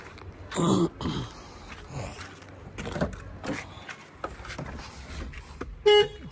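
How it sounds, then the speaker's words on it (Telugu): A Maruti Alto K10 horn gives a single short, bright honk near the end, after several seconds of low handling noise and faint rustling close by. "హారన్ కూడా వర్కింగ్"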